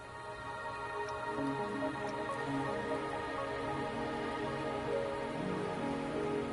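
Steady rain pours down continuously in the video game Wuthering Waves, a dense hiss of drops on surfaces, with a faint tonal musical bed underneath and no voices.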